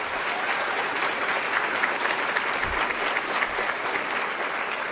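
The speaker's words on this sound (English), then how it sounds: "So let's have a round of applause for our volunteers." Audience applause at a women and leadership event, steady and dense clapping from a large crowd that fills the whole stretch without a break.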